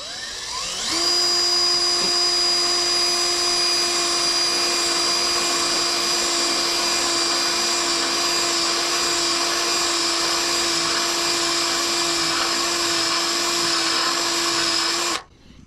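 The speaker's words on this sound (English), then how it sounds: "I let the drill bit do the work." An oiled drill bit bores steadily into metal on a scrap trailer deck, a loud, continuous high whine with sustained tonal overtones running for about fourteen seconds before cutting off abruptly.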